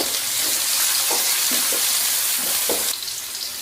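Chopped onion tossed into hot oil in a pan for cauliflower fried rice, giving a steady loud sizzle with a few soft stirring clinks, the hiss easing slightly near the end.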